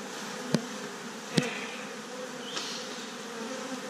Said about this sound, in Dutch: Hele rustige bijen.